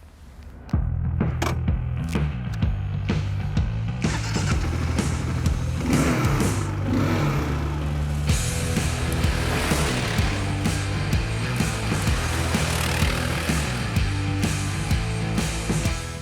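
A 2022 Kawasaki KLR650 adventure motorcycle rides on trails, its single-cylinder engine thumping and revving up and down through gear changes, loud and close with wind noise throughout.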